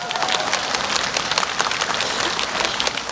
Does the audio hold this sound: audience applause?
yes